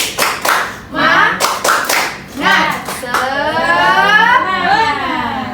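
A classroom of students does a rhythmic group clap, sharp patterned hand claps close by, with young voices chanting in time and a sustained shout closing the routine.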